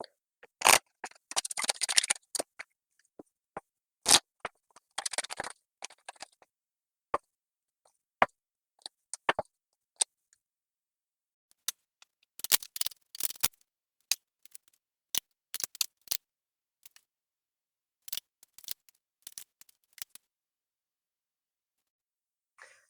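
Tarot cards are shuffled and drawn at close range, giving bursts of riffling and flicking with scattered single sharp snaps of cards set down, separated by stretches of silence.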